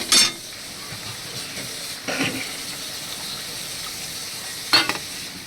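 Water poured into a pan of pointed gourd and coconut korma sets off three short, loud bursts of sizzling and hissing, separated by a steady low background simmer, with no talking.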